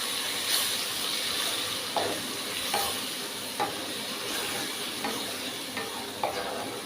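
A spatula stirring long bean bhorta paste in a sizzling pan, close scraping strokes every second or so over a constant frying hiss, no voices.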